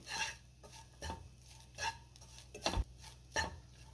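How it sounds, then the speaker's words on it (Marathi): Almonds, cashews, pistachios and charoli are stirred in a pan for a fresh coconut kheer, making faint, intermittent scraping and light clinks of a spoon against the pan at a slow, regular pace. "बदाम, काजू, पिस्ते आणि चारोळे घातले आणि पुन्हा 1 मिनिटभर मी परतून घेणार आहे"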